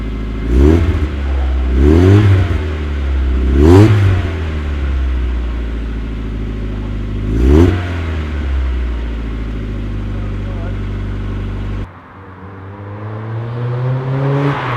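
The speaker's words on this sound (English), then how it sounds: "the exhaust sounds pretty good" A Mk1 Mazda MX-5 fitted with a Cobalt aftermarket exhaust, revved loudly four times in sharp surges over a steady low idle, then the engine note drops and settles before rising again near the end.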